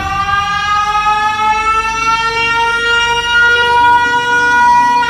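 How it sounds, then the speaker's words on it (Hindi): A loud cartoon siren blares continuously in a steady, harmonic wail with no pauses for about five seconds. "जिससे एक तेज सायरन की आवाज आती है।"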